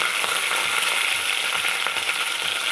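Green chilies, garlic, dry red chilies and curry leaves frying in hot oil for a chutney, a steady dense sizzle throughout with faint stirring clicks, close and continuous, no voices.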